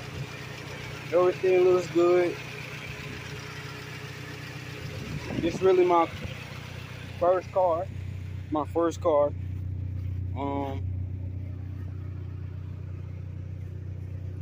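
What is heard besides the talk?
1995 Honda Civic engine idling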